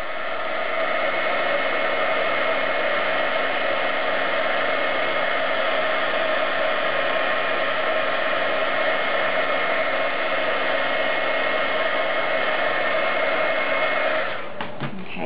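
A heat gun blows a loud, steady, unbroken whir over embossing powder as it melts, keeping one even tone for many seconds before cutting off at the very end, with no talk.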